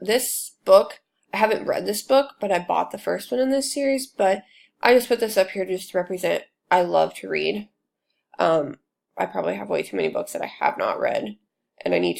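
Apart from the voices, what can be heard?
No everyday noises stand out.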